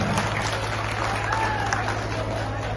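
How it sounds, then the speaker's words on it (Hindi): Crowd applause at a political election rally in Uttar Pradesh: a dense, steady wash of clapping that holds for the whole stretch, with a low electrical hum running underneath. "जोरदार ताली आप लोग बजाएं।"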